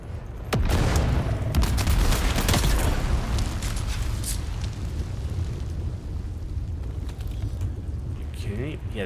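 A grenade detonates in Dune Awakening, a sudden loud blast followed by a long rumbling roar that gradually fades, with brief voices and scattered game effects near the end.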